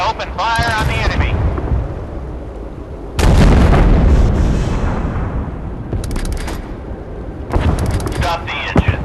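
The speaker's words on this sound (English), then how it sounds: "Ready to open fire on the enemy." Heavy naval guns boom in the warship battle game Force of Warships, each salvo a loud, deep blast with a rolling rumble. Several salvos come in quick succession over a steady engine drone, and a voice speaks between them.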